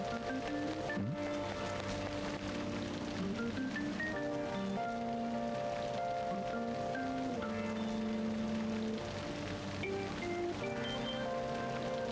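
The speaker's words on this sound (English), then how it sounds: "I hate the rain." Soft, steady rainfall in the video game Persona 5 Royal, a constant faint hiss running beneath melodic background music throughout.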